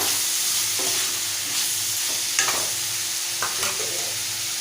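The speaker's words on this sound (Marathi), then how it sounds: "आपण चिरलेला टॉमॅटो घालूया मिक्स करूया" Chopped tomato being stirred into sizzling spices for a drumstick, brinjal and potato curry, a strong steady hiss with occasional soft scraping strokes of a spoon; no speech.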